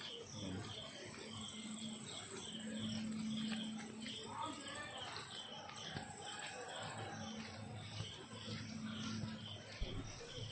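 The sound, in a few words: crickets chirping at night at Tarapith cremation ground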